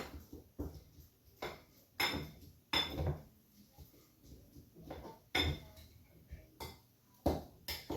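Ripe avocado mashed with a utensil in a bowl: repeated dull knocks and scrapes at an uneven rhythm, each press ending in a brief clink against the dish, close and moderately quiet.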